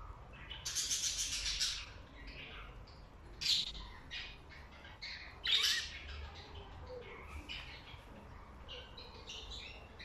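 Jumbo budgerigars chirp and squawk in their cage. Bright, chattering calls come in clustered bursts over a soft, steady background, fairly close and without any voices.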